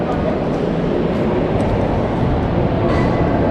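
Busy train station ambience in Frankfurt, a steady broadband rumble and wash of crowd and rail noise throughout, with no distinct voices standing out.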